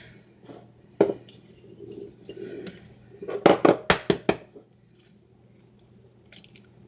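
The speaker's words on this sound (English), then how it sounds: "my egg cracking skills are not the greatest" Eggs being cracked for homemade perogy dough, a few sharp cracks against a bowl followed by a quick cluster of clinks and taps, with soft drips and kitchen handling sounds, close and fairly quiet.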